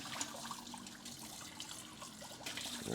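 Water poured from a dish into a bowl while washing dishes, a soft trickling splash that runs steadily and quietly, swelling slightly near the end.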